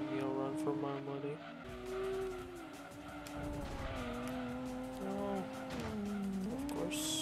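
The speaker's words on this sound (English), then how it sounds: "Sounds like a race car." A Mazda RX-7 FC racing engine in Gran Turismo 2 whines and shifts pitch steadily, with tire squeals, while a person talks over it.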